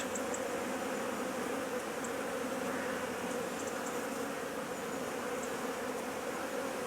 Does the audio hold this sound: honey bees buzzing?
yes